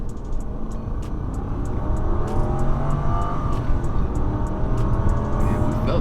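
A 2001 Lexus LS430 sedan accelerating hard, its engine note rising in a smooth, strong roar from inside the car, with steady road and wind noise building underneath and faint ticking sounds above.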